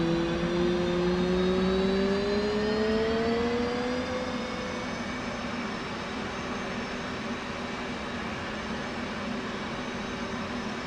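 Jet engine spooling up during a start cycle in a flight simulator game, a steady turbine whine with tones rising over the first few seconds and then holding a constant drone, moderately loud with no talk.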